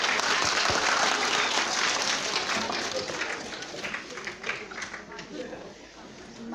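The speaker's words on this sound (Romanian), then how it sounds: "Aplaudați vă rog să putem începe" Audience applause at a Christmas piano recital for beginner pianists, a dense burst of many hands clapping that starts loud and gradually thins and fades over several seconds.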